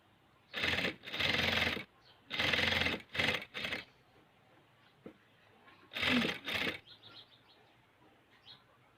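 A sewing machine stitching a homemade apron runs in several short bursts of rapid, close whirring, separated by brief quiet pauses with faint handling of fabric.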